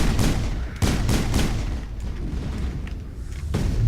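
Gunfight in the video game Mass Effect, with several loud booming shots and an explosion in quick bursts, game gunfire dominating without talk.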